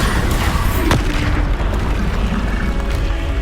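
A Bombarda spell explodes in Hogwarts Legacy on PS5, giving a loud, sustained rumbling boom with a sharp burst near the start that fills the whole stretch.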